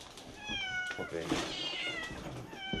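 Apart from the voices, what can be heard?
starving cats meowing in a shed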